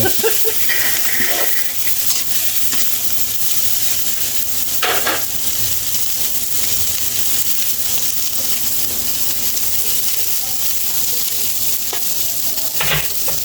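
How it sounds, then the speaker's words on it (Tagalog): Garlic and onion sauté in a hot pan with a steady broadband sizzle and occasional utensil scrapes, close and fairly loud, with no talking. "habang nagigisa tayo ng bawang sibuyas"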